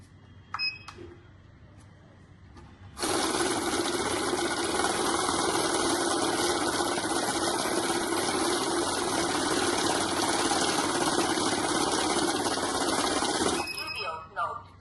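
A mixed-currency note counting machine runs in one steady, loud whirring burst of about ten seconds, starting abruptly and stopping just as sharply, with faint handling noises before and after.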